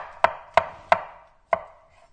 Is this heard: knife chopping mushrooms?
yes